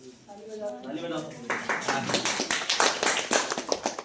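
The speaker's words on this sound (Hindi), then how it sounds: "हाँ ताली मत बजाओ, सब कुछ ला के दे दिया करो मेरे को।" Students clap in a classroom, a quick run of sharp claps following a brief bit of speech.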